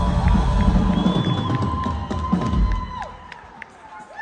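Big live concert crowd at the Music Farm in Charleston, SC, roaring, whooping and cheering with applause, loud and sustained and filling the room, with a faint tonal ring and scattered shouts above the din.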